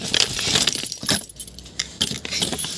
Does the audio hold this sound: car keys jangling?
yes